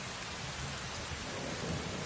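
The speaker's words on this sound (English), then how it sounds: "the rain still hammering around us" Heavy rain pours down in a dense, continuous roar while low thunder rumbles underneath, a steady stormy wash with no voices.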